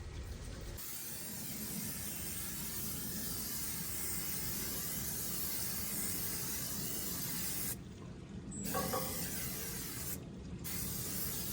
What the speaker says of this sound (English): we're going to use some PAM, which is also a canola oil blend, and we're going to spray the whole inside of this smoker